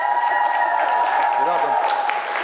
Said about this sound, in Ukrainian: Під ваші просто бурхливі зелені оплески